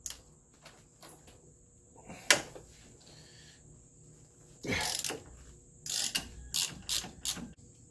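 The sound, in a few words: removing 13/16 caliper bracket bolts on Dodge Caravan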